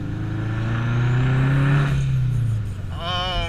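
A boosted Scion FR-S engine revs, its loud, deep tone climbing and then sagging. A wavering whistle-like turbo spool rises near the end.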